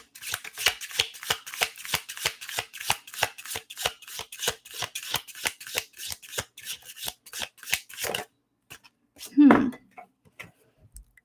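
Tarot cards shuffled in a fast, even run of crisp riffling flicks for several seconds, then a pause and a single louder card being drawn and placed, close by.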